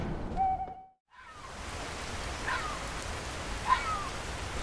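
Steady rain falling in the fantasy game Skyrim Special Edition, a soft continuous hiss with a brief dropout near the start and faint tonal sounds drifting over it.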